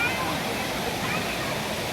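A waterfall at a cool bathing spot pours steadily, a dense broad rush of water filling the whole short stretch at an even, fairly loud level.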